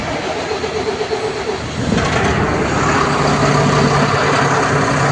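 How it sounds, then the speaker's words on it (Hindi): A Tata Signa BS6 truck engine starting, a loud broadband rumble that steps up sharply as the engine catches and then holds steady at idle, heard close with no talk. "सबसे पहले गाड़ी को स्टार्ट करते हैं।"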